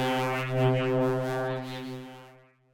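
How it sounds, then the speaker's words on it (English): An Omnisphere synth soundscape with FM shape waveform modulation: a sustained, deep horn-like tone rich in harmonics that slowly shifts in timbre and fades out, heard alone. "we're getting more interesting modulation as it's moving through the waveform, and it's creating these really unique tones"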